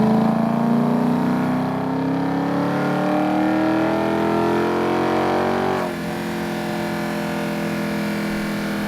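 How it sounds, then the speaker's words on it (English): A Dodge Charger fitted with nitrous revs hard, its engine note climbing steadily in pitch for several seconds before dropping and settling into a lower steady drone, loud and close with no voices. "This is a Dodge Charger I recorded for Need for Speed some years ago."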